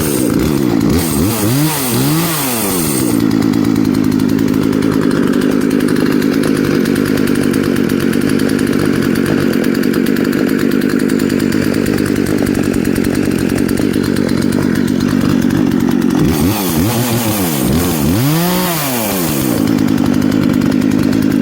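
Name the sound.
Poulan Pro 40cc chainsaw running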